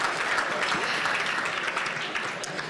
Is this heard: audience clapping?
yes